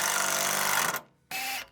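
A power drill driving screws into a tilt deck trailer whirs steadily, stops for a moment, then starts again. The sound is close and quite quiet.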